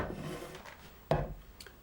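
A wooden chopping block is set down during a knife demonstration, giving one sharp, close knock after faint rubbing and shuffling sounds.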